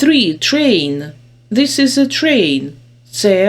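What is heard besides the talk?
No everyday noises stand out.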